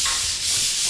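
Sandpaper rubs in a steady, close, continuous scratchy hiss for about a second, alone, during installation work on a project site.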